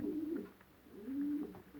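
Young racing pigeons cooing close by, two soft throaty rolling coos in a row with a short pause between, low and gentle with no talk over them.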